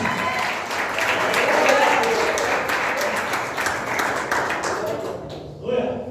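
A congregation at a prophetic seminar claps loudly and continuously in a dense, sustained burst that fills the space, tapering slightly toward the end.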